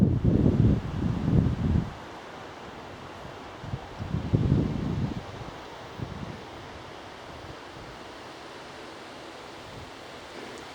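Strong wind blowing on a countryside walk near Frant: gusty rumbling buffets against the microphone in two bursts early on, then a steady, quieter rush of air.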